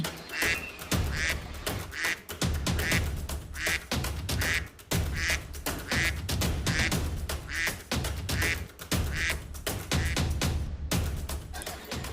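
A cartoon goose quacks over and over in an animated story, loud rapid bursts of harsh quacking filling the whole stretch with only brief pauses.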